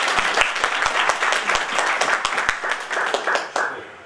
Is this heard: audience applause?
yes